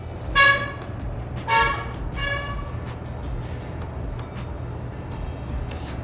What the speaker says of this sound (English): cars, horns, all kinds of stuff